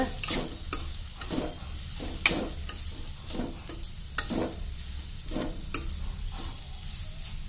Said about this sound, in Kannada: ಮತ್ತು ಹಿಂಗೆ ತಾಳಿಸ್ಬೇಕು